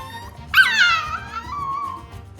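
A puppy gives a sudden high yelp that trails off into a drawn-out whimper, loud and close, with a low rumble of background noise underneath.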